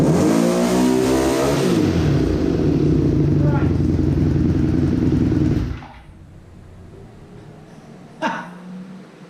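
A Honda VF500F motorcycle engine during carburetor syncing, revving loudly and unevenly as the throttle cable is pulled, then dropping abruptly to near silence, followed by a short final burst of sound.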